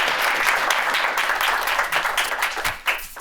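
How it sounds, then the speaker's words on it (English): A keynote audience at a Boston conference gives a steady, dense round of applause, many hands clapping together at close range for the full length and fading slightly near the end. "Please, a round of applause."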